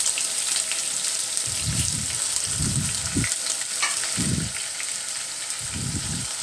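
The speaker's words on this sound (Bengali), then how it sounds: "এবার এর মধ্যে পেঁয়াজ বাটা দিয়ে নিচ্ছি 3 টেবিল চামচ" Onion paste and whole cloves fry in hot oil for a Bangladeshi chicken jhal fry. A steady sizzle hisses throughout, with several low, scraping stirs breaking in at intervals. No one speaks.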